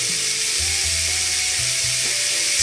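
Steady hiss of burger patties sizzling in a hot pan, constant and close, with a faint tonal whine drifting over it.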